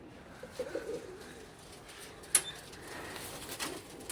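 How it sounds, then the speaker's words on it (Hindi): Pigeons kept for competitive flying coo softly outdoors, a few low, faint coos amid quiet background noise and a brief sharper sound partway through. "बहुत अच्छे कबूतर हैं"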